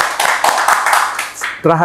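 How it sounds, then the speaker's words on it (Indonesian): A small group claps briefly for a woman at a ginger product review, quick uneven hand claps close by, ending as a voice begins to speak. "kita kasih tepuk tangan dong buat Ibu"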